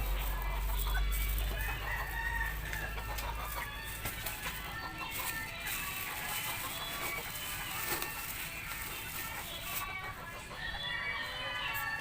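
Backyard chickens and a rooster cluck and crow in a continuous busy chorus, with a low rumble at the start and steady outdoor background, close to moderately near.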